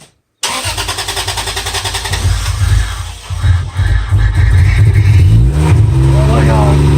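Toyota 1JZ engine in a Lexus SC300 cranking and firing into a loud rough idle, then revving up and down close by, with excited voices talking over the running engine.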